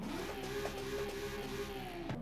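Race exhaust on a car in Forza Horizon 5 gives a sustained revving engine note with a rising whine, steady and close, ending in a brief dip, with no voices.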